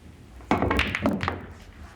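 Pool balls dropping into a pocket in a billiards video game, with a sudden near thunk followed by a short cluster of rolling, knocking clatter that fades within a second.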